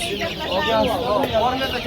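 Young chickens, about two and a half months old, at the Jomashuy poultry market in Namangan region, giving high repeated chirps and clucks close by while people talk over them.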